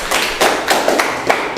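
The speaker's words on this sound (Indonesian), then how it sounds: "kasih tepuk tangan" A small classroom group claps after a presentation, a close, loud burst of irregular hand claps with distinct sharp hits over a short stretch.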